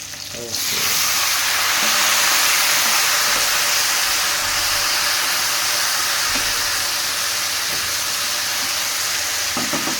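Tomatoes go into a pan of frying drumstick curry, raising a loud, close sizzle that begins abruptly and then holds as a steady hiss with faint stirring clicks.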